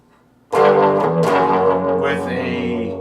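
A single loud chord on an electric guitar rings out through a Fender Mustang 1 amp set to the Bassman model with tremolo, sustaining for a few seconds with a wavering, pulsing shimmer after a quiet start.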